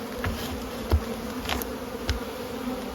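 Honeybees at an open hive missing its cover in spring, a steady close dense buzzing hum with a few louder passes as individual bees fly near.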